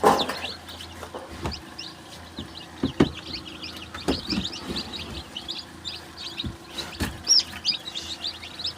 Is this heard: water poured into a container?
no